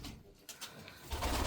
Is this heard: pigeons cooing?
yes